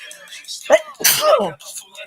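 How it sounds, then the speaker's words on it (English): A single loud, close sneeze bursts out, surrounded by brief vocal sounds. "here I am sneezing"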